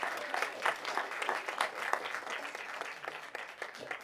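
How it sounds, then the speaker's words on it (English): Indoor audience applauding award-winning students, grade level leaders and administrators at a school board meeting, a steady patter of many hands clapping for about four seconds, moderately distant and fairly quiet. "But please hold your applause until we get all of them out here."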